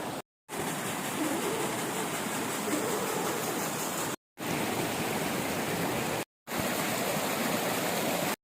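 Steady rushing water of a river near Synevyr in Zakarpattia flows without pause, a broad even hiss like a fast stream nearby, with a few abrupt dropouts.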